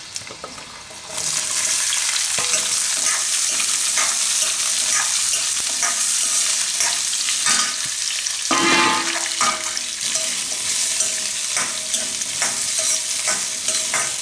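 Indian gooseberries (amla) drop into hot oil with fenugreek seeds, and a loud, close sizzle bursts in after a quiet second and carries on steadily, with stirring scrapes and crackles over it.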